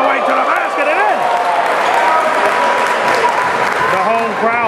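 A home crowd at a high school basketball game between St Maria Goretti and DeMatha cheers and applauds loudly and steadily throughout, with sneaker squeaks and whistles mixed into the roar.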